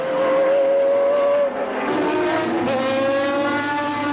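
A 1986 Ford Mustang Probe IMSA Camel GTP race car idles loudly and steadily after pulling into the pit stop at Laguna Seca, a sustained buzzing engine drone that dips briefly, with pit-lane noise around it.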